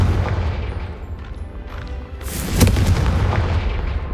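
An explosive Confringo spell cast in Hogwarts Legacy, heard as a soft rumble followed by a sudden deep boom and a crackling burst that fades over the next second or two.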